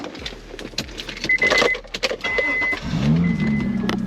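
A car engine cranks and turns over, settling into a low idle, with clicks and jingling keys beforehand.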